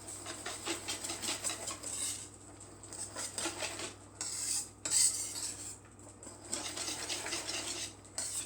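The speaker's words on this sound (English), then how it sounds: "Give that a good stir." A spoon stirs a mixture in a bowl for fish au gratin, giving close, repeated scraping and clinking strokes of cutlery against the dish, fairly quiet and unbroken by speech.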